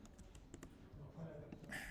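Quick, light clicks from a computer keyboard as the Command C copy shortcut is pressed during pixel graphics editing, soft and close over a steady background hiss.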